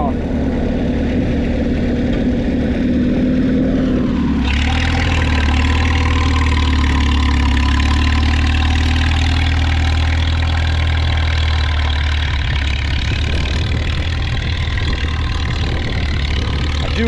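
A tractor engine idles steadily while pulling a plow, a loud, close, continuous low drone that shifts to a deeper, heavier tone partway through and holds there without a break.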